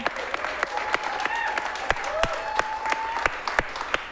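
An audience at an improv comedy show claps to vote for a film in the next act, producing a steady bed of applause with sharper individual claps cutting through, plus a few cheers and whistles.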